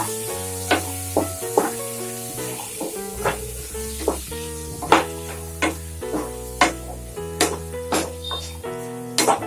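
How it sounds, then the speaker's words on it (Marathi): Chopped bottle gourd dropped into a hot pan for a quick lauki sabzi and mixed, giving a soft sizzle under a series of sharp scraping and clinking strokes at irregular intervals, close and fairly loud. "कट केलेला दुधी भोपळा टाकूया. मिक्स करूया."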